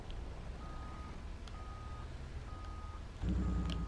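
Repeating electronic reversing beeps sound at a steady interval from a nearby farm truck, over a rumbling engine that grows louder near the end.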